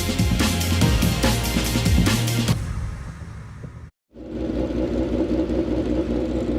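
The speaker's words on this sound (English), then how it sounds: "Next up, the historic Formula 2 cars. You can hear all the engines have started up." Historic Formula 2 racing car engines run together at The Classic at Silverstone, a loud, steady mechanical drone with rhythmic pulsing that eases into a smoother idle, broken by a brief drop-out.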